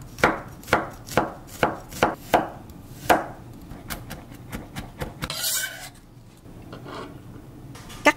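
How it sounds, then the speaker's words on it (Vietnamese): Quick, rhythmic knife chops on a board as garlic is minced, about seven close strikes, then a scrape and a few scattered taps. "Rồi mình băm nhỏ thêm 2 tiếp tỏi nữa nha các bạn."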